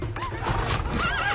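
A horse whinnies loudly in a Game of Thrones scene, a rising neigh ringing out near and close while hooves clip-clop beneath it, with a second shorter whinny late in the moment.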